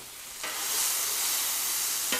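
Vegetables hit hot oil for a stir fry and burst into a loud, steady sizzle that holds strong, with a fresh crackle near the end as more goes into the pan.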